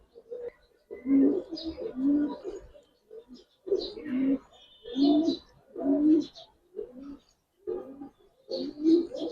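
Pigeons of an old breed coo in repeated low, throaty phrases close by at a pigeon farm, with short pauses between bursts and a few faint higher chirps.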